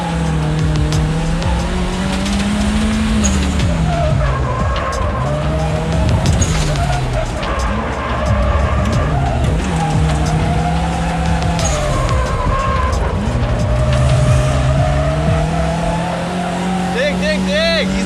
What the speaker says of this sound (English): drift racing right now